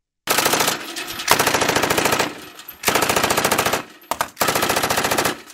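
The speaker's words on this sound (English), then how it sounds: "I did not know a gun can feel like this." A machine gun fires in long, rapid bursts, loud and close, with short gaps of silence between the strings of shots and no talk.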